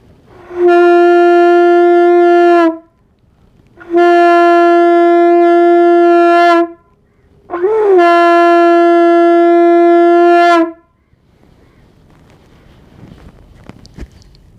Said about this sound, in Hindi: और 3 बार आपको शंख बजाना है।